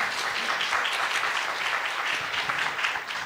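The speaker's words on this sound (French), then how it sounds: "Ouais, bien sûr qu'on peut l'applaudir." Steady applause from an audience at a French talk on mathematics, continuous dense clapping throughout with no speech over it.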